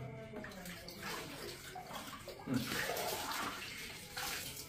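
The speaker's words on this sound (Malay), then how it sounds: "Yang keluar daripada paip air." Murky water gushes from a tap into a basin, a steady splashing rush that swells midway and stays loud throughout, with no talk over it.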